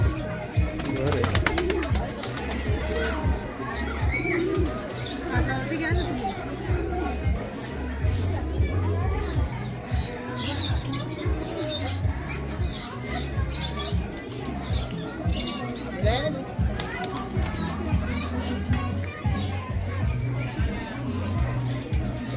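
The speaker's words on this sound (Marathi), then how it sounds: "कबूतर असे ओपनली आहेत इथे." Pigeons living openly in a farmyard coo in low, repeated throaty notes, close and fairly loud, while people chatter nearby and other birds add to the background.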